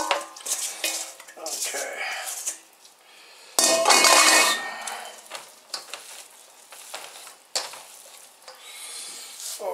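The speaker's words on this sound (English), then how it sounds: "I give this to a bigger bowl so it's a little easier to mix." Beef sausage meat gets mixed in a large bowl with clattering, scraping and squelching stirring sounds. The noise comes in uneven bursts with one loud clatter near the middle, and a voice speaks briefly.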